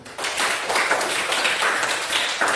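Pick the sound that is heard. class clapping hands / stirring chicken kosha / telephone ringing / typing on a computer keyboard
class clapping hands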